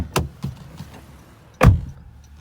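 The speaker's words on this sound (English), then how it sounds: "You guys hear that nice solid thunk of the door?" A few light clicks and taps, then one solid, muffled thunk of a 2017 Honda Accord EX-L V6 car door shutting close by.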